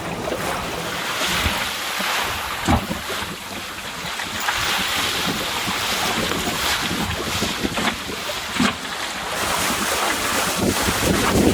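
Small sailing dinghy planing fast down big ocean swell off Cape Louise, with a steady loud rush of wind across the microphone, hissing water and sharp splashes as the hull slaps through the waves, no talk.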